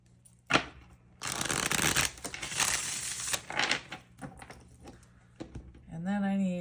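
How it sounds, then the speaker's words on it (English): A deck of tarot cards gets shuffled by hand, a short snap followed by a long papery riffling burst and a few smaller flicks, close and clear, before a voice begins speaking at the end. "No, I need to shuffle that again."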